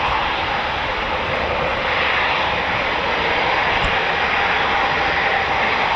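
A Eurofighter Typhoon FGR4 jet engine starts up at RAF Coningsby, a loud, steady broadband roar that holds constant throughout with no talk over it.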